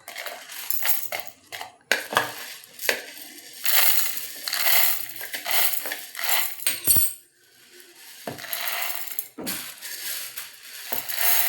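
Roasted dried shrimp and chana dal being ground into powder in a mixer jar, a loud, harsh crushing roar with rattling bursts that stops and restarts several times, with no voices.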